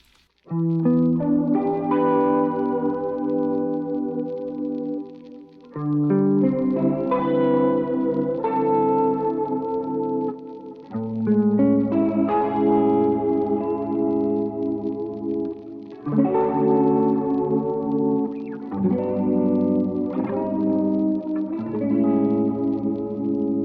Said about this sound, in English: I have programmed this awesome preset with some static noise in the back, a filter, some vibrato